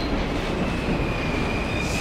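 Braking train in the video game Condemned: Criminal Origins, deep underground: a steady, loud rolling rumble of rail cars with a thin, sustained metallic wheel squeal running across it.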